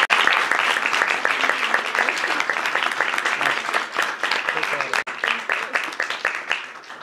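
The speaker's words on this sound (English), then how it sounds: "Give her another round of applause" Applause at a 2017 news conference, honoring a young woman's speech: a crowd's steady, even clapping lasts the whole stretch with a brief dip midway.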